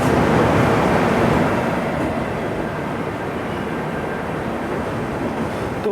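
Mumbai Amravati Superfast Express hauled by a WAP7 electric locomotive, heard from inside the train as a steady, loud rolling rumble with dense rail clatter that barely changes throughout.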